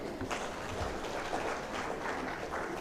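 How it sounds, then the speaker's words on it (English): An audience applauds at an agroecology week event, a continuous dense patter of many hands clapping at a moderate, fairly even level. "let us join our hands together and we clap again for him"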